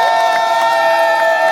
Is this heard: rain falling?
no